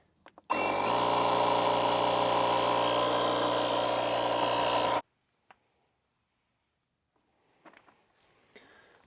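A portable power-station air compressor runs loud and steady for about four and a half seconds, pumping a 31x10.5 inch tire on a 15-inch wheel up to 40 PSI, then cuts off abruptly, leaving quiet with faint handling noises.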